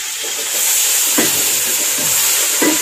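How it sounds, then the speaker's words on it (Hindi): Onions sizzle in hot ghee for a Hindi-style palak and mooli sabzi, a steady broadband frying hiss with a few soft stirring scrapes, close and alone without voices. "घी गर्म हो गया है, और अभी हम इसमें प्याज डाल देंगे।"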